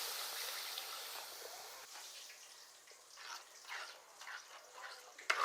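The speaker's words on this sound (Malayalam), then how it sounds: "ഇതിനകത്തോട്ട് കുറച്ച് വെള്ളം ഒഴിച്ചു കൊടുക്കുക." Water poured into a pan of fish curry masala with chilli and coriander powder makes a soft trickling and splashing, quiet and close, growing a little livelier toward the end with a short clink.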